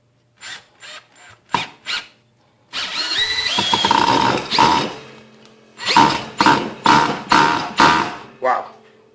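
A Ryobi 18V One Plus cordless drill driving a drywall screw with a soft bit, loud and close: short bursts, then a sustained whine, then a series of quick pulses.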